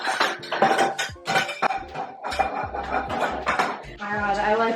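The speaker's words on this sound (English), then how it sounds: "pans are flying" Pans and dishes clatter and clink in a busy kitchen, with repeated metallic knocks and rattles close by and voices mixed in underneath.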